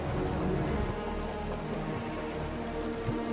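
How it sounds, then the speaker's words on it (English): Rain falling in the video game Wuthering Waves, a dense, steady patter on surfaces with a constant low rumble underneath and no pauses. "The rain's getting heavier."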